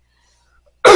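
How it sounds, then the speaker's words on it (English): One sudden, harsh cough bursts out near the end after near silence, loud and close. "Please excuse the horrible cough."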